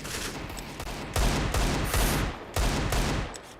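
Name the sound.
Desert Eagle pistol gunfire in Counter-Strike video game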